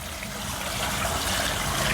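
Water tipped from a bucket runs across a new patio into its drainage, a close, steady rushing and trickling flow that swells slightly over two seconds with no voices.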